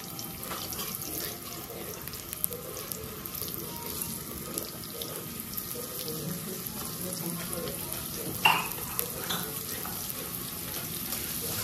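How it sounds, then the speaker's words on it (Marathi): Garlic and ginger fry in hot oil for restaurant-style paneer patiala, a continuous bright sizzle and hiss at steady level, with one sharper clink partway through. "तेल गरम झाल्यानंतर आपण लसूण आणि आलं टाकून भाजून घेऊया।"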